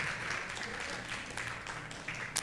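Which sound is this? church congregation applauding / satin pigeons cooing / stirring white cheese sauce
church congregation applauding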